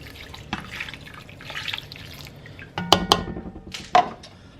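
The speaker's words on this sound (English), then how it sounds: "a 1/2 cup of water." Water splashes and trickles into a cooking pot in a few uneven bursts, with a sharp clink or two, as half a cup is added to chipotle shredded chicken.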